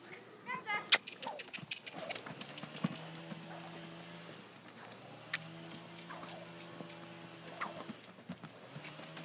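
Three-year-old Hanoverian mare cantering, muffled rhythmic hoof thuds recurring at a moderate distance, with someone speaking to the horse over them and occasional clinks and rustles.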